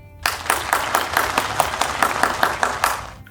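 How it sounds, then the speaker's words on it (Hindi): Steady audience applause welcoming a bishop onto the stage of a Christian television programme, a dense continuous wash of many hands clapping with rhythmic accents, loud and close, with no talk over it. "अब वक्त है कि हम खुदावंद के ममसू बिशप जॉनथन रहमत को अपनी तालियों में खुशामदीद कहते हैं"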